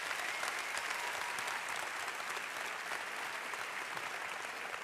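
Steady applause from an audience welcoming a speaker at a talk about manhood, dense continuous clapping heard from a distance at moderate volume, with no voices standing out.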